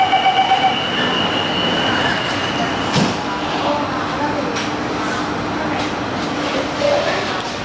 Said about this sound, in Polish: No i tak wygląda metro